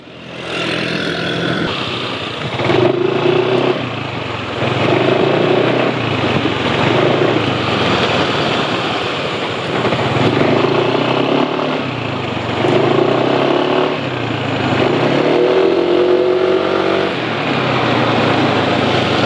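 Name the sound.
motorcycle engine running on Hi Power SAE 40 oil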